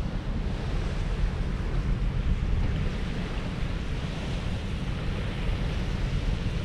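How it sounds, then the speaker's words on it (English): Incoming tide waves wash steadily across a bay on the River Humber, a continuous broad surf rush mixed with wind buffeting the microphone, with no talk. "So the water is coming in now, look at this."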